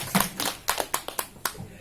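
A few people clap sparsely and unevenly at a neighbourhood community gathering in Surabaya, with about seven or eight separate sharp claps spread across the moment, fairly close and moderately loud, with no speech over them.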